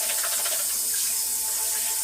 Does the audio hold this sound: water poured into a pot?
yes